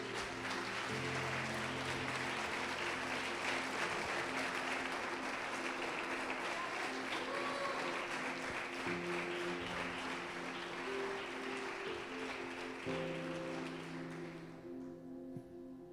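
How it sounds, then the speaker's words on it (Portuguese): Applause from a church congregation during a sermon, a broad steady wash of clapping lasting throughout with music tones underneath, fading slightly at the end. "Podemos aplaudir o Senhor?"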